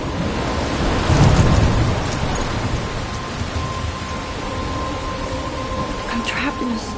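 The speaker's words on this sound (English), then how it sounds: "I'm trapped in a storm?" Rain pours steadily with low rumbling thunder swelling early on in a thunderstorm scene from the video game Life is Strange, loud and continuous, with a faint voice under it.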